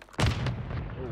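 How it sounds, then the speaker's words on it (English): A single sharp, loud grenade blast with a booming low rumble and short decay in the Call of Duty Modern Warfare III video game, close and prominent. "Throwing grenade."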